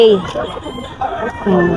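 Roosters of the Boston Sweater gamefowl breed crow and cluck at a busy Bocaue poultry market, with several short calls standing out over the crowd noise and nearby talk.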